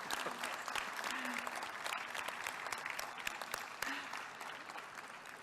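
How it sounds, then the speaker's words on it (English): Guests at the launch of an election results operation centre in Tshwane applaud in a steady, sustained round of clapping from a fairly distant crowd, with a faint voice briefly audible beneath. "giving us a round of applause, giving yourselves a round of applause"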